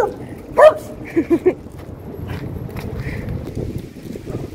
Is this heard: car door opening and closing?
no